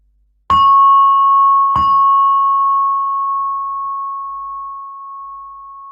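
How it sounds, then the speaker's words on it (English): A meditation gong rings out during a guided mindfulness session, struck twice in quick succession, then leaves a single clear, pure tone that hangs in the quiet room and slowly fades away with no voices over it. "As the gong fades"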